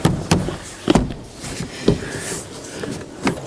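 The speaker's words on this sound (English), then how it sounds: "Pop your door panel back in like that." Plastic door panel on a Ford Ranger PK being pushed back into place, a series of dull knocks and clip thumps spaced about a second apart, close by, with no talk.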